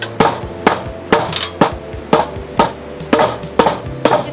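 Back of a hammer striking wood again and again to distress it for a rustic look, with about ten sharp, close knocks in an even rhythm roughly every half second and no talking.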